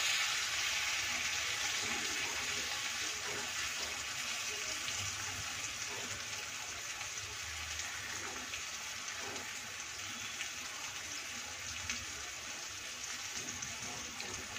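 Rohu fish frying in a pan for a summer fish curry makes a continuous, even sizzling hiss that holds steady throughout, fairly close and with no talk over it.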